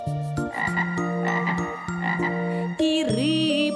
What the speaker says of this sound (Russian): лягушка кричит